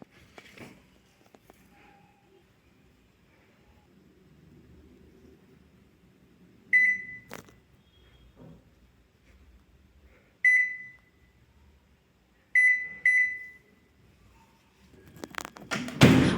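A microwave oven set to full power while cooking buttered sweet corn, with faint thumps and taps followed by clear, evenly spaced electronic beeps in short bursts, and a louder rustle at the end.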